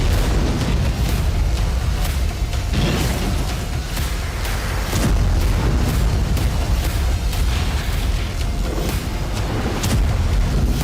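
The 1945 Trinity nuclear test, the first atomic bomb explosion: a long, continuous roaring rumble, loud and sustained with deep booming energy throughout.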